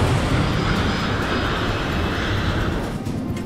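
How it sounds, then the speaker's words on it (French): Air Florida Flight 90, an airliner, accelerating on its takeoff roll with a loud, steady broadband engine roar and rumble that holds throughout and eases slightly near the end. "Lorsque l'avion décolle"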